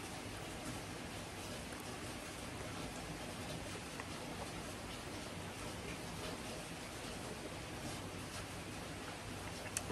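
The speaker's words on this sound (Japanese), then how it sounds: "梅雨の大雨ですね。" Heavy rainy-season downpour in Japan hisses as a steady, dense wash of falling rain, soft and continuous with no voices.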